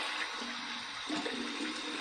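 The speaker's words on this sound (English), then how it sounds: "Here's my warm water rinse." Tap water running for a warm rinse after a razor shave, a steady rushing, splashing stream at close range, continuous and even throughout with no voice over it.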